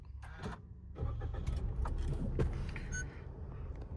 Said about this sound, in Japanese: 早速じゃあエンジンかけてみましょう。